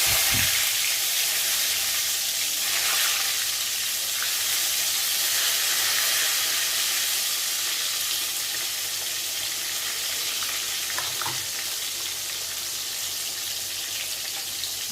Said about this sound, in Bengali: একটা একটা করে সব বেগুনগুলো দিয়ে দিচ্ছি।